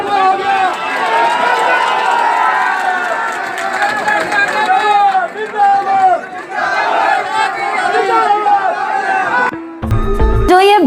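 A huge crowd of Delhi auto-rickshaw drivers, taxi drivers and railway porters fills the scene with loud, dense shouting and overlapping voices. The roar carries on without a break until a brief, sharp knock near the end.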